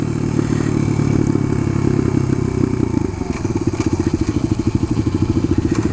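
Suzuki DR-200 motorcycle engine running while riding: a steady, close mid-pitched drone that turns into a rhythmic pulsing throb in the second half, with no voices.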